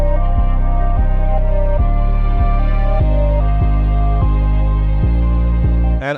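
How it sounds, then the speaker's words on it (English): A heavy, gritty distorted 808 bass from an MPC Live 2 booms in steady, evenly spaced hits beneath a looping chopped melodic sample, loud and close, ending with a brief noisy cutoff. "I wanted something that was heavy, have that distortion, and just have that grit to it"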